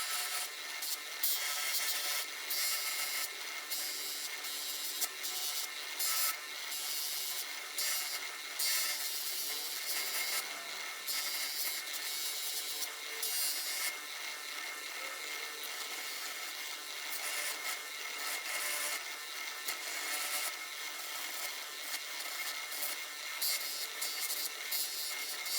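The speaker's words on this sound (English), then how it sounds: "The first polish will be using Eastwood Tripoli on the buffing wheel." A buffing wheel loaded with Eastwood Tripoli compound polishes a steel Stanley #20 try square, giving a steady, faint, continuous hissing rub with slight variations in pressure and no speech.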